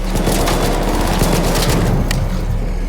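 Gunfire and explosions in the video game ARC Raiders, with a thrown grenade going off amid a dense, continuous barrage of loud shots and booms throughout.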